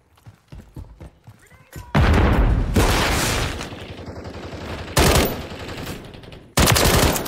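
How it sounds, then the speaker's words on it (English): Call of Duty Modern Warfare III multiplayer combat during Team Deathmatch brings a loud close grenade blast followed by bursts of rapid automatic gunfire, with heavy broadband shots returning in separate volleys after brief lulls. "Grenade!"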